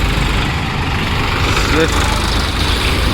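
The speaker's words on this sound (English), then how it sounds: "This is a water tanker actually." A water tanker tractor's heavy engine rumbles steadily at close range on a street near a fish market in Chennai, a continuous low drone with no break.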